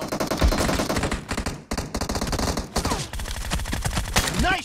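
Rapid bursts of gunfire crackle through a PUBG Mobile match, dense and loud, with brief pauses between the volleys.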